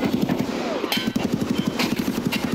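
Rapid automatic gunfire in the video game Escape From Tarkov, a fast, even stream of loud, close shots firing continuously.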